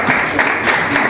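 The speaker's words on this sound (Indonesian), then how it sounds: "tepuk tangan buat." Steady applause from a group, a continuous patter of clapping at moderate volume throughout.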